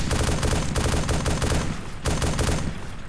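Rapid automatic gunfire rattles in dense, loud bursts in a realistic war video game, one sustained volley with brief dips between strings of shots.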